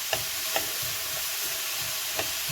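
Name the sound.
spaghetti squash cooking and stirred in a frying pan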